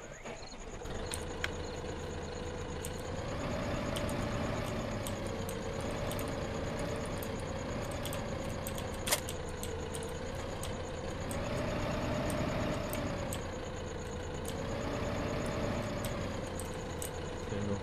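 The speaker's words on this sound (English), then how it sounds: "Let's get the tractor." Tractor engine idling in Farming Simulator 15, a steady low rumble held for the whole stretch with a gentle slow rise and fall in pitch and no talk over it.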